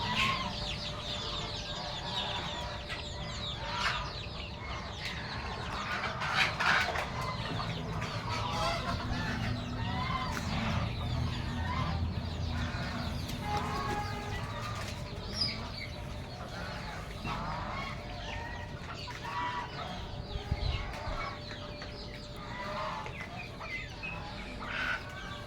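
Native Bengali chickens cluck continuously at a farm, with chicks among them, many birds calling and overlapping against a steady, busy background din.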